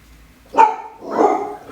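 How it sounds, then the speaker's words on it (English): Dogs bark indoors close by, one sharp bark followed by a longer, rougher bark, loud and clear with no talking. "Sorry about the dogs."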